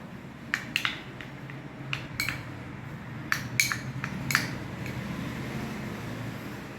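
A spoon clinks against a bowl while sandalwood powder and potato are stirred together for a face mask, with a series of light, close taps and scrapes in irregular bursts over a steady fan-like hum.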